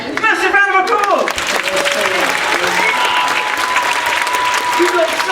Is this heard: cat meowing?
no